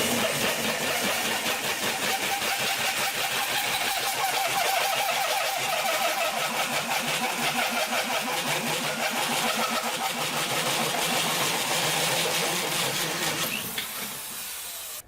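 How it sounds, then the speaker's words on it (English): A hole saw cuts through a 4-inch brass cover at low speed, giving a steady, loud grinding whir with dense rasping texture that holds for about thirteen seconds and then eases off near the end. "What we're drilling here is a 4-inch brass cover, and we just go at a little bit lower speed"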